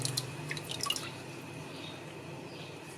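Water dripping and splashing as aloe vera leaves are soaked and washed, a few close drips and small splashes in the first second, then a soft steady background hiss.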